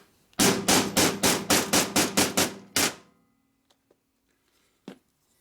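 A hammer peens metal on a 1972 Harley-Davidson Ironhead Sportster engine case in a quick run of about ten loud, close, ringing strikes. One last blow follows after a short pause, then near silence with a faint tap.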